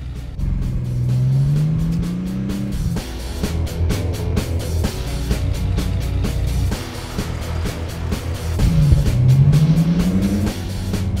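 Nissan Z sports cars on a club cruise along twisty scenic roads, engines droning steadily and rising and falling with revs as cars pass, loud and continuous over the whole stretch.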